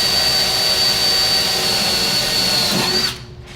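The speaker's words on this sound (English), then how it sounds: "this is an 1/8 inch bit, and I'm just doing a little pilot hole." A small 1/8-inch bit bores a pilot hole for a tilt hood kit, a steady high drill whine running close and loud for about three seconds before cutting off abruptly.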